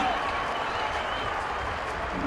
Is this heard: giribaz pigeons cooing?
no